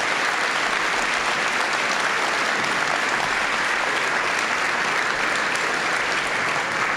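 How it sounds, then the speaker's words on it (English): An audience at a high school football award ceremony gives a steady round of applause for the finalists on stage, dense clapping filling the room without a break. "Let's give them a nice round of applause while they're all up there."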